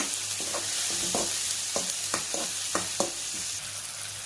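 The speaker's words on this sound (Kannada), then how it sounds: "ಟೊಮೆಟೊ ಫುಲ್ಲು ಸ್ಮ್ಯಾಶ್ ಆಗೋವರೆಗೂ ಚೆನ್ನಾಗಿ ಫ್ರೈ ಮಾಡಬೇಕು" Chopped tomatoes frying in a pan, a steady sizzle broken by a series of distinct spoon scrapes and taps as they are stirred and mashed.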